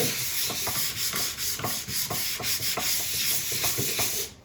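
Steady rhythmic scratching of sandpaper rubbing back and forth across HempWood during finishing, close and continuous with regular strokes.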